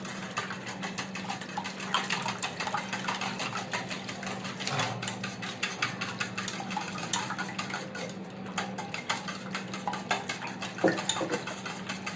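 Egg mixture for French toast, seasoned with homemade Malvani masala and salt, whisked in a bowl: a steady, rapid scraping and clinking close by, continuous with no talking.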